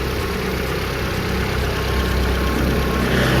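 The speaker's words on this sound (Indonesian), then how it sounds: "ISC nya biasanya RPM nya naik turun seperti itu" Steady, loud close-up drone of a Kia Visto engine idling with a faulty idle speed control, a continuous low hum and rumble with only slight swelling in level, no talk.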